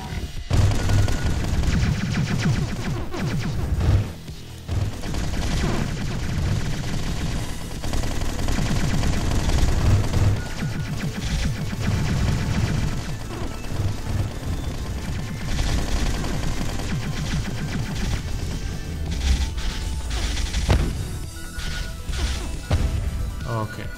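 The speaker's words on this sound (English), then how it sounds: "Look how long we can shoot this without running out of energy though." A weapon fires continuously in the video game Neuro Voider, a loud, dense stream of rapid shots and crashing impacts that runs unbroken through the whole stretch while a voice talks over it.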